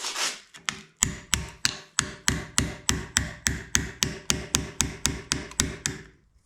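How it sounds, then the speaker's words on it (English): A hammer chips residue off a zinc branding iron with about eighteen sharp, evenly paced metallic taps, close and fairly loud, in a steady rhythm that stops abruptly. "I could chip it off with a hammer."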